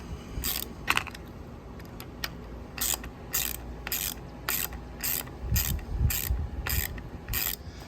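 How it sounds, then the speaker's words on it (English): A socket wrench ratchets by hand as it loosens fuel injector bolts on an Evinrude G2 outboard engine, using a slightly undersized 5/16 socket. It gives repeated bursts of close, crisp clicking in a steady stroke-by-stroke rhythm, with no talk. "so you got to undo these. I'm using a 5/16. It's not the perfect size, but it will get the job done"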